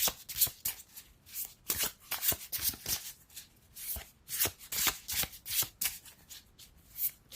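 Tarot cards are shuffled by hand in repeated quick riffles and soft slaps, close and crisp, in bursts about every half second with short pauses between, no voice over it.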